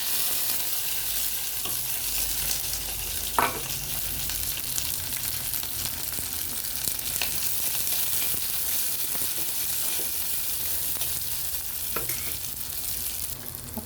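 Shallots, curry leaves and green chillies fry in oil with ginger and garlic, a steady dense sizzle running throughout with occasional stirring clicks and scrapes, no talking.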